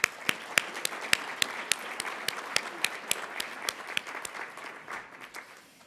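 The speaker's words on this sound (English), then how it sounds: "Please join me in giving them a round of applause" Applause from the audience at a regional State of the Region address, a soft wash of clapping with a few sharp, closer individual claps standing out at a steady rhythm, gradually fading toward the end.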